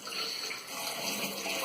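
Cold water runs from a shower diverter tap in a steady, faint, hissing stream with no talking.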